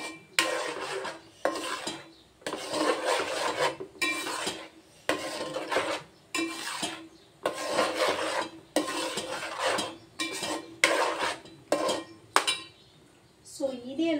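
Brinjal masala is fried and stirred in a pan, with repeated rasping scrapes of a spoon against the metal in bursts of a second or so, separated by brief pauses, close and fairly loud.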